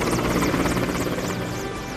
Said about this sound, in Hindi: आरएमएल के ऊपर से वायुसेना के विमानों ने फ्लाई पास्ट किया